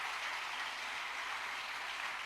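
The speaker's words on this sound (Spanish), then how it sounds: "Dele fuerte palmas al Señor" A church congregation claps hands together in a dense, continuous wash of applause at a Spanish-language sermon, steady and moderately loud for the whole stretch with no individual claps standing out.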